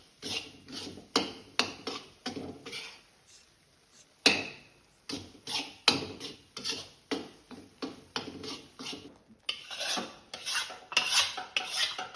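Sieved besan (gram flour) is stirred into ghee in a pan, heard as rhythmic rasping scrapes of a spoon against the pan, close and fairly loud, in bursts with short pauses and no talking.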